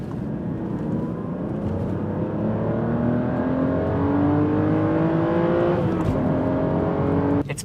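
A 2009 Aston Martin DBS engine rises smoothly in pitch as it accelerates, a loud sustained roar that drops back briefly and then climbs again.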